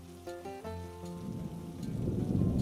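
Steady rain during the peak of the rainy season in a village, a soft hiss that builds gradually louder over a few faint tonal notes at the start.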